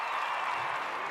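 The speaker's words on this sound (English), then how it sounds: "I'm going to clap." Dense, even applause hisses continuously and fairly loud for about a second. No individual claps stand out, so it sounds more like many hands than one person clapping.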